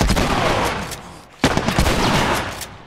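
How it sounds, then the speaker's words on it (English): Gunfire in The Last of Us video game, a sustained burst of loud, close shots with a sharp gap mid-clip before another burst resumes. "they were shooting him and I was shooting him"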